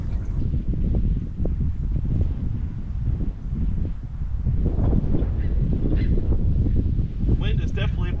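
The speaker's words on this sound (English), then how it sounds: "Wind is definitely more than they predicted today, as is typical." Gusty wind over the Withlacoochee River in Florida buffets a nearby microphone as a loud, steady roar that rises and falls in waves, with a person talking over it.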